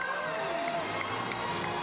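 Dense crowd noise during a lap of honour at the Longines equestrian Grand Prix in Hong Kong, a steady wash of distant cheering and chatter from spectators with no single sound standing out.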